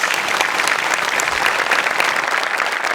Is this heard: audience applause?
yes